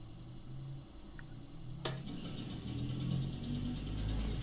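In the Trans-Siberian Railways Simulator video game, a locomotive air compressor starts with a sharp click and then runs as a steady mechanical rumble with faint rhythmic ticking, alone and moderately quiet.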